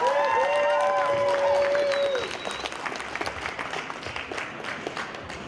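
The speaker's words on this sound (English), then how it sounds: "give a round of applause, really warm" A warm round of applause from a conference audience at a startup day event. It starts under a fading musical tone, then dense crowd clapping carries on alone.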